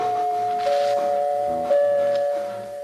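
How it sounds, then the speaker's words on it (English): NBC network chimes ring clearly: three bell-like tones followed by an extra fourth chime, each note sustained and ringing out, close and alone. "Have you heard that extra chime, the fourth chime?"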